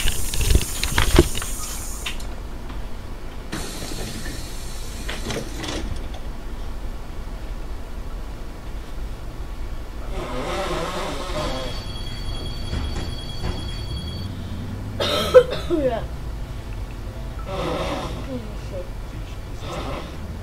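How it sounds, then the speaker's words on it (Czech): Someone blows their nose close by in several forceful, breathy blasts spread across the stretch, with rustling and handling noise between them. "S dovolením ještě jednou se vysmrkám."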